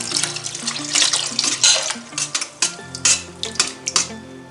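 Leftover cooked rice is swished and rinsed in water in a vessel, giving a series of uneven splashes and sloshes with occasional light clinks, close and alone.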